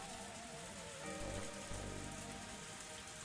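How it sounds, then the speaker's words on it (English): Heavy rain pouring down in a steady, dense wash of noise, loud and continuous throughout with no voices, in a video game scene. "it's raining. It's a heavy downpour."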